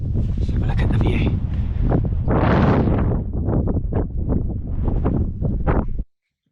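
Strong wind buffets the microphone at a misty wild campsite on Dartmoor, roaring in loud continuous gusts with a brief swell in the middle before cutting off at the end.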